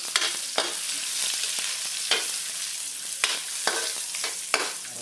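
Garlic and ginger are stir-fried in a pan, a steady soft sizzle broken by repeated clicks and scrapes of a utensil stirring, close by.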